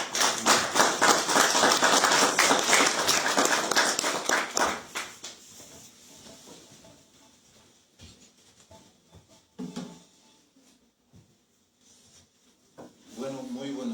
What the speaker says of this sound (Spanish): démosle la bienvenida por favor con unos aplausos